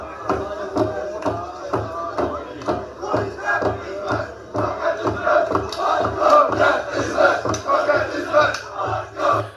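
A crowd of kids chants and shouts loudly in a steady pulsing rhythm, their voices massed together in a dense, continuous roar that swells toward the end.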